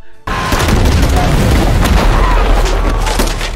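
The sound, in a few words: gunfire in war film Hacksaw Ridge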